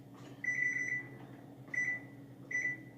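An oven timer beeps in three evenly spaced, sustained electronic tones, clear and close in a quiet kitchen with a low background hum.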